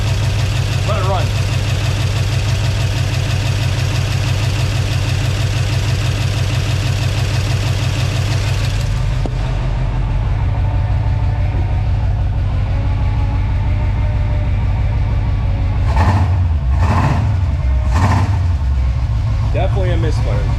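A 1947 Chevy 1-ton truck engine idles loudly and steadily with an uneven misfire, its tone dropping partway through, and a voice briefly speaks near the end.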